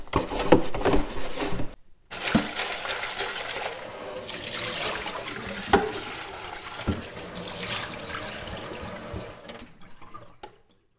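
Water running from a tap while a hydroponic growing container is cleaned: a steady rushing splash broken by a brief silence near the start, fading out at the end, with no voices.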